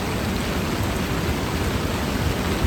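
Heavy rain pours steadily over the Ibo river, a dense, even roar of broadband noise with no breaks and no voices.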